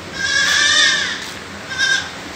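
A Nagri goat bleats on a farm: a long, loud, wavering bleat followed by a shorter second call, both close and clear with no talking.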